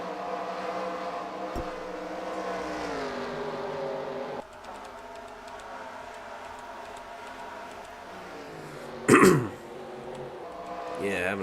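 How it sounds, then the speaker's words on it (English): A person with a cold gives one short, loud nose blow near the microphone, heard over the steady engine drone of a car racing game. "Gonna blow my nose again real quick."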